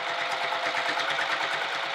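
A sewing machine stitches a wallet with a continuous fast, even mechanical chatter, close and steady for the whole stretch.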